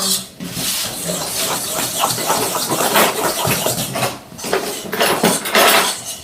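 Butter and sugar being worked together with a wooden spoon for a galette des rois, a continuous busy scraping and knocking against a bowl, fairly close and steady for several seconds, with no one talking.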